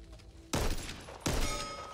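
Two loud shotgun blasts in the video game Back 4 Blood, a bit under a second apart, each a sudden heavy boom with a decaying tail. The blasts are close and stand alone with no talking.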